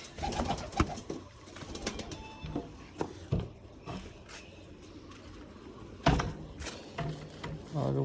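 Pigeons coo nearby in low, repeated throaty calls, mixed with rustling, handling noises and a few sharp knocks.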